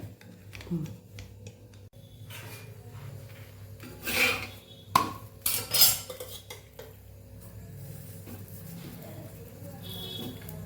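Thepla dough being rolled out while another thepla cooks on the stove makes rubbing and scraping sounds. A few sharp utensil clinks stand out midway against quiet kitchen background.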